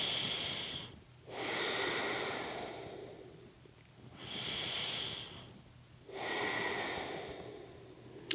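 Three slow, deep breaths taken during a seated neck and shoulder yoga stretch, each a long airy inhale and exhale with quiet pauses between, heard close and alone.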